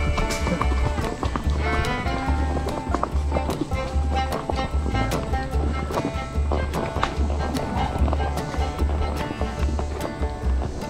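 Hooves of horses and a few mules clip-clop in a steady walking rhythm on a trail, several animals moving together, under wind noise and occasional faint voices.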